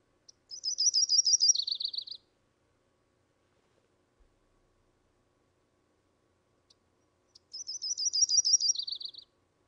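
Yellow-rumped warbler song played back from birding software: two separate high, trilled phrases, each about one and a half seconds long with a drop in pitch at the end, clear against near silence.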